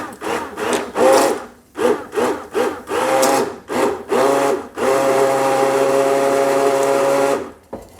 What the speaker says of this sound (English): with my immersion blender, blend everything together.